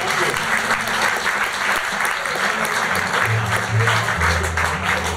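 Festival crowd at a bluegrass event in Thun applauds a mandolin player, sustained loud clapping filling the whole stretch, with a few low instrument tones sounding under it near the end.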